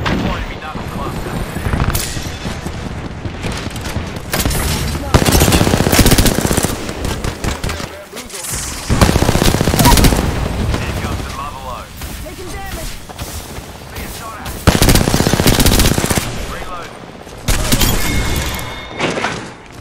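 Rapid automatic gunfire from the Apex Legends battle royale shooter, with dense bursts and sustained fusillades near and loud, repeating in waves across the match while voiced game callouts sound between them.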